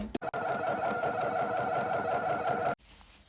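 A sewing machine with a presser foot for topstitching a concealed zipper runs a short backstitch, a fast steady mechanical whir at close range, starting with a couple of quick clicks and stopping abruptly.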